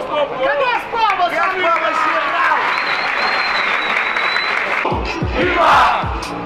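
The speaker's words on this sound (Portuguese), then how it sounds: "Cadê as palmas" Loud crowd applause and cheering at a Brazilian rap battle, a dense roar of clapping and shouting with voices rising over it, briefly dipping near the end before swelling again.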